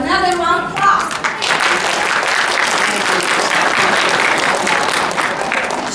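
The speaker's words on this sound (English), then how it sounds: "give her another round of applause" A room full of attendees at a Detroit China Day gathering breaks into loud, dense applause that swells quickly after a brief spoken moment at the start and holds steady to the end.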